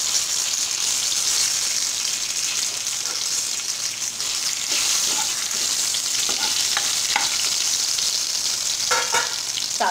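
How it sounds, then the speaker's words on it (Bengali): Dried red chillies, bay leaves and white cumin seeds sizzle in hot ghee for a special dal, a loud, continuous crackling hiss with bursts of spattering pops toward the end. "ঘিটা গরম হলে তা আমি ওর মধ্যে শুকনো লঙ্কা আর তেজপাতা ফেলে দেব, আর দেব খানিকটা সাদা জিরে।"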